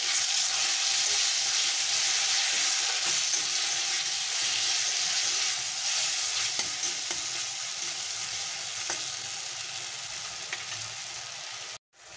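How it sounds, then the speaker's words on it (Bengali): Spice paste for a mutton fat curry sautés with a splash of water in a pan, a steady close sizzle and hiss running almost the whole time with light stirring scrapes, then cutting off abruptly near the end. "জল দিয়ে মশলাটাকে একটু কষে নেব"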